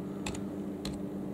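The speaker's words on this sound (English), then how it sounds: "using your keyboard, you type in whatever it is" Two quick bursts of computer keyboard clicks, each a short cluster of taps, over a steady low background hum.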